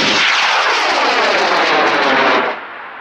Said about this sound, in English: Going up in an L2200 Mojave green. Green rocket, green motor, gotta love it.